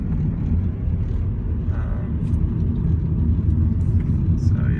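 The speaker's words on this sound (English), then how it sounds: "This is the dirt road. I kind of go fast." A car driving fast along a dirt road, giving a steady, loud low rumble of engine and tires throughout, with faint road noise on top and no break.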